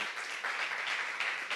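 Steady applause from a church congregation during a sermon, a dense wash of clapping that holds at an even level throughout.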